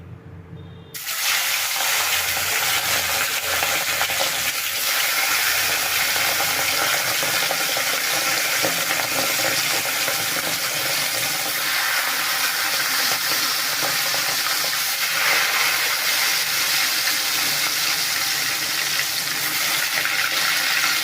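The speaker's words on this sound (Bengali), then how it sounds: "তেলটা গরম হয়ে গেছে এখন আমি মাছটা ভেজে নেবো এক এক করে" Katla fish pieces frying in hot oil, a loud, steady broadband sizzle that starts abruptly after a quiet second and holds unbroken for about twenty seconds, close up with no talk.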